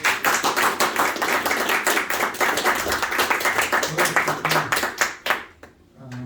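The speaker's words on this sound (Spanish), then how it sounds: "Vamos a darle un fuerte aplauso al Señor." A church congregation applauds loudly with fast, dense clapping that holds steady for several seconds, then thins out and stops abruptly.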